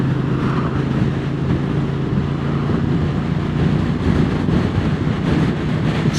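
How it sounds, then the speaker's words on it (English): Steady roar of wind buffeting the microphone while riding a 2023 CFMOTO 450SR motorcycle in the UK, over a low engine drone, continuous and fairly loud throughout with no voices. "Quite windy again today"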